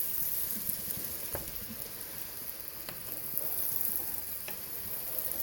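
Aromatics browning in a hot pan for a beer cheese soup, a soft steady sizzle with a few scattered crackles and pops, fairly quiet and continuous with no talk.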